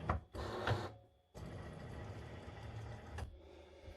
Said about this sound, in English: open up the cutting machine and switch it on